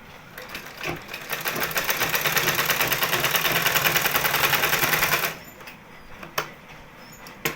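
Sewing machine stitching a palazzo, a fast rhythmic whirring run of needle strokes lasting about four seconds, close and fairly loud, then stopping, followed by a few faint clicks and handling knocks.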